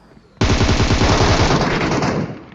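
Rapid automatic gunfire rattles loud and close in a mobile shooter game, a sustained burst of about two seconds that starts abruptly and tails off at the end.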